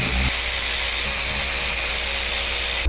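A power screwdriver whines steadily and loudly as it backs out T25 Torx screws, a continuous high motor buzz with a brief low rattle at the start and no talking.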